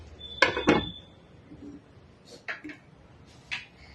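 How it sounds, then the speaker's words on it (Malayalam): Metal lid set over a pot of cooking raw banana curry, two close clanks of metal on metal at the start, then a few lighter clinks and taps spaced out over a quiet background. "ഇപ്പോൾ ഒരു മിനിറ്റ് ഇങ്ങനെ മൂടി വയ്ക്കാം കേട്ടോ"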